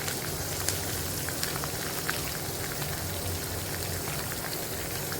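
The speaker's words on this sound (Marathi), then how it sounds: "आणि ह्याच्यातच मी आपल्या शेंगा धुवून घेतलेल्या आणि त्यात परतवणार आहे" Cluster beans (guar) sautéing in a pan with asafoetida make a continuous soft crackling sizzle, with small pops scattered evenly and no talking over it.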